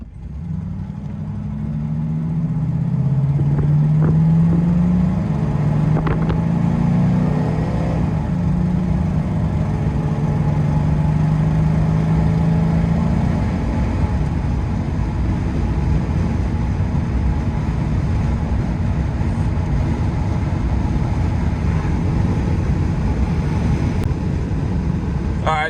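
A 1989 Ford F-350 with the 5.8 engine flooring it from a dead stop, its loud engine roar rising steadily in pitch through the revs and then holding a strong drone as the truck pulls on, heard from inside the cab.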